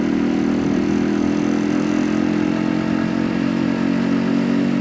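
A Yamaha RX100 two-stroke motorcycle engine runs loud and steady while being ridden, a continuous close buzzing drone with no talk.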